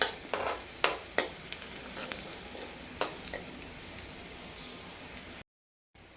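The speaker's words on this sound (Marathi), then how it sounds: "आता हे थोडा वेळ आपल्याला असंच फ्राय होऊ द्यायचं आहे" Cumin and garlic paste fry quietly in a pan for a cabbage dish, a soft steady sizzle broken by several sharp spoon taps and scrapes early on, then a brief silence near the end.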